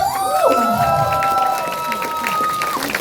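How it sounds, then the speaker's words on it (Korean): Outdoor crowd at a local trot song show in Chilgok, cheering and shouting with scattered applause, whistles or high voices rising and sliding over the crowd, loud and close. "장례주인 복 받았나라 박수!"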